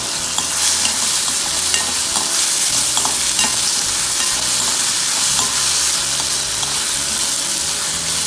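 Onion, tomato and ginger garlic paste sauté in a pan: a loud, dense sizzle runs throughout, punctuated by repeated scraping stirs, close to the listener.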